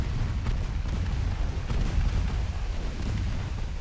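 A torpedo strikes a warship in the naval game Ultimate Admiral Dreadnoughts, a dense, rumbling blast with sustained low roar and crackling debris that fills the scene without any voices.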